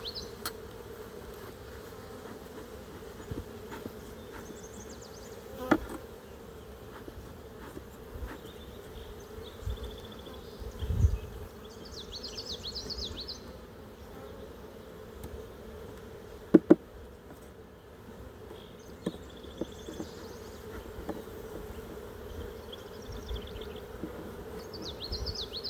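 Honey bees buzz around an open beehive during an inspection, a steady low drone persisting throughout with scattered clicks and brief knocks from hive tools, no talking.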